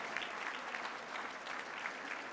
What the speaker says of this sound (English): Let's give you all a nice round of applause.